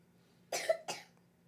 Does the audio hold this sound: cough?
yes